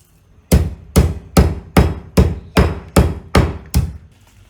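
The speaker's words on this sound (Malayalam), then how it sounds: "അടുത്ത കുരുമുളക് ഇട്ടൊന്ന് ചതക്കട്ടെ" Black peppercorns crushed with a pestle for chukku kashayam (dry ginger brew): nine heavy, evenly spaced pounding thuds, close and loud, each with a short ringing decay, no talking.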